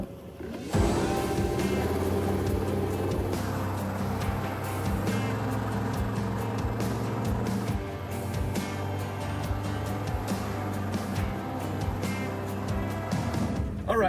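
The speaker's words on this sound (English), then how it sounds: "All right, we made it up that hill, 4-wheel drive for the win" A 4-wheel drive vehicle climbs a steep hill on an off-road trek, its engine a loud, steady, droning rumble that holds throughout with little change in pitch.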